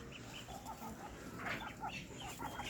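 Hens and chicks cluck softly in a village poultry yard. The calls are short and scattered over a steady background hum, and a chick's higher peep rises briefly among them.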